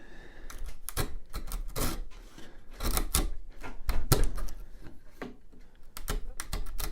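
A sharp chisel paring thin shavings from pallet wood for a spice rack, a series of crisp cutting strokes and taps at irregular intervals over a steady low room hiss.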